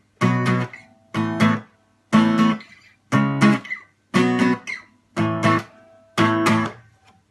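An acoustic guitar strums the pre-chorus chords of a song in seven evenly spaced bursts, each chord rung briefly then damped, clear and close with no singing or talk.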